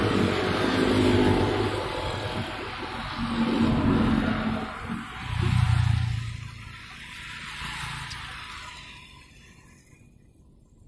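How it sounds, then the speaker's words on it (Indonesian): Road vehicles, including a truck, pass along a highway in waves of rumbling engine noise and tire roar, swelling and fading as each goes by before quieting toward the end. "Wah, ada mobil truk tuh."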